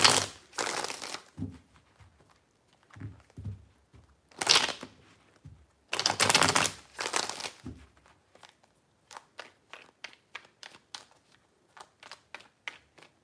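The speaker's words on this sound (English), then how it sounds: "Three shuffles." A deck of tarot cards is shuffled in several bursts: long rustling riffles come first, then a run of quick, crisp card taps and snaps. The sound is close and clear, with no talking over it.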